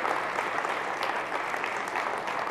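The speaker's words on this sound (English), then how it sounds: "Let's give them a round of applause." An audience applauds elected and appointed officials at a public gathering, a dense, even wash of clapping from many hands, steady and moderately loud throughout.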